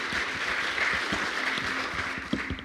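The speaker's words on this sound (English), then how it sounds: "how about another round of applause for learning about Madison tonight" Applause from an audience at a political history summit talk on James Madison, a steady dense wash of clapping that fills the whole stretch at even loudness.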